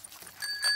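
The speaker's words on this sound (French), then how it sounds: "Et ici la sonnette." A bicycle bell gives a couple of brief, bright rings, light and close, with nothing else around them.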